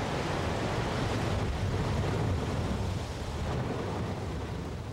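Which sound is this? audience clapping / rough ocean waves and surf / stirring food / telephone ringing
rough ocean waves and surf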